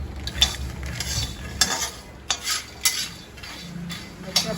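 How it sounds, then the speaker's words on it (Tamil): Peanuts being dry-roasted in a kadai on a stovetop, with scattered scraping stirs and light rattles of nuts against the pan over a low steady hum, moderately faint and close. "இப்போ அடுப்பில் கடாயை வச்சு இதில் சிம்லியில் போடுறதுக்கு வேணுங்கிற அளவுக்கு வேர்க்கடலை போட்டு வறுக்கணும்"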